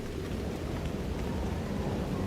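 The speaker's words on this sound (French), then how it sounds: "Je suis mouillé et il pleut." Steady rain falls on an island trail in Iceland, a dense continuous hiss with low rumbling patter, close and even throughout with no voices.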